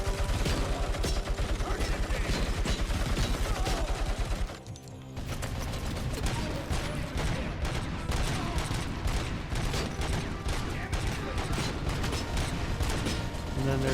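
Heavy machine gun fire from RoboCop Rogue City, dense and relentless with mechanical clatter, briefly dropping out near the five-second mark before the rapid bursts resume at full loudness.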